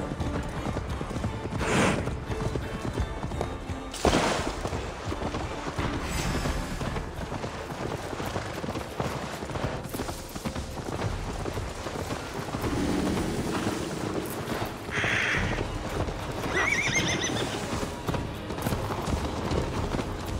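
A horse gallops in Assassin's Creed Valhalla with a continuous, rapid clip-clop of hooves at a steady pace, carried over game ambience without any talking.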